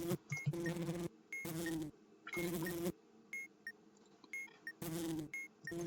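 Honeybees buzz in Keep Talking and Nobody Explodes on the Simon's Swarm module: four loud, droning bursts about a second each, separated by gaps with short electronic blips.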